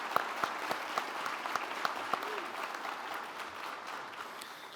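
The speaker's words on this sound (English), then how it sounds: "ask if we could please give them a round of applause for the fantastic training they have provided these officers" Audience applause for the police academy training staff at an officer graduation ceremony, a moderate, even clapping wash with a few sharper individual claps, holding steady throughout.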